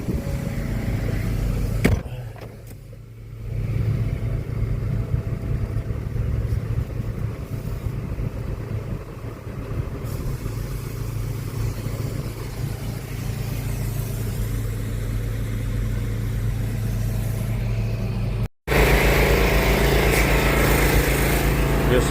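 Farm tractor engine running steadily and close throughout, a continuous low drone with a brief dip in level and a short cut near the end, no talk.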